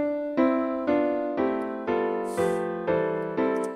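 A composed piece combining major and minor parts plays as a steady sequence of bright, plucked chord tones struck about twice per second, each decaying before the next, with a soft swell midway.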